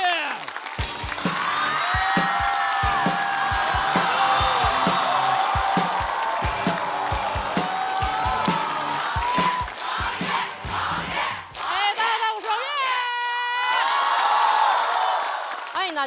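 A studio audience at a stand-up comedy competition show cheers, whoops and applauds loudly and continuously, with rhythmic clapping and excited shouts filling the room as a comedian is welcomed to the stage.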